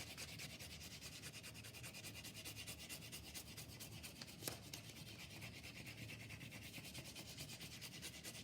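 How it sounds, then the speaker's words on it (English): A crayon colors in a paper circle with a steady, fast, quiet scratchy rubbing that continues without pause from start to end. "I'm going to get my crayon and I'm just going to color my whole circle."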